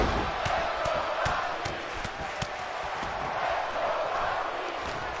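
Wrestling crowd at an RSW Redline show keeps up a steady roar of noise, a dense wash of cheering voices with rhythmic bursts that fit a chant of support for Roxanne Perez.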